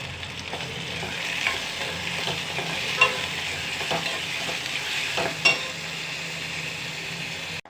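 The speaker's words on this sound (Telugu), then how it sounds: "చూడండి ఆనియన్స్ ఎర్రగా వేగేయండి" Chopped onions with green chillies sizzle steadily in a frying pan for an egg and potato curry, with a few spoon scrapes and clinks on top, close and continuous.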